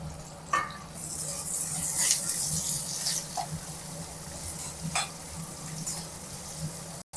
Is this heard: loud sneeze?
no